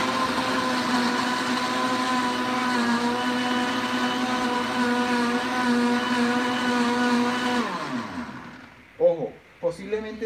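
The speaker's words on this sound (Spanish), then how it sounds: "al máximo que les dé su licuadora lo hacen" A kitchen blender runs at maximum speed, giving a loud, steady whir for about eight seconds before spinning down, followed by brief talk.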